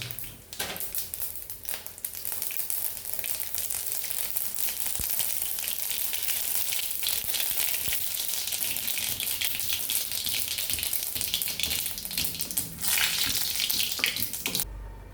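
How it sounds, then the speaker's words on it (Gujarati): Mustard seeds sputter and pop in hot oil for a Kathiyawadi gathiya curry, making a steady, close crackling hiss that continues throughout. "હવે આપણે આમાં અડધી ચમચી જેટલી રાઈ નાખીશું અને રાઈને બરાબર ફૂટવા દેશું"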